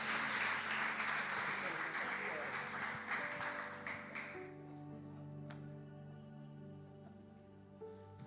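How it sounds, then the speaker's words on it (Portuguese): A church congregation claps in praise during a worship service, a dense burst of applause in the first half that fades out, leaving sustained tones and a few voices. "as palmas louvem ao nome do Senhor"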